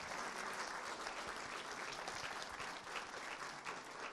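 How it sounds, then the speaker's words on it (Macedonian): A church congregation at a Christmas service applauds steadily and evenly throughout, heard from some distance at a low level, with no voices rising above the clapping. "Затоа да го поздравиме со еден аплауз нашиот Господ Исус Христос."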